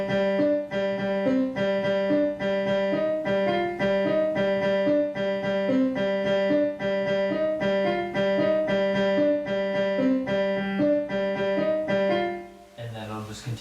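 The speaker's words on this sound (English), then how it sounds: "you're going to have to add some swing to your notes" Piano passage played with a swung rhythm, a steady stream of short repeated notes and chords with long-short timing, close and clear, ending in a brief rustle.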